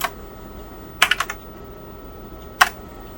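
A few crisp key presses on a TRS-80 Model 4P computer keyboard: a quick burst of clicks, a pause, then one more keystroke, close and clear.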